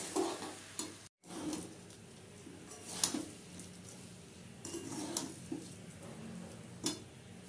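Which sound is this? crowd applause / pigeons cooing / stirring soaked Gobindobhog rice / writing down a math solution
stirring soaked Gobindobhog rice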